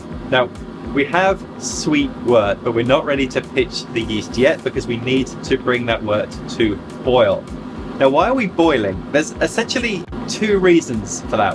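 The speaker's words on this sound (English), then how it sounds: "Excuse the noise, I've got my extractor fan running now." A steady kitchen extractor fan whir hums in the background beneath someone talking continuously up close.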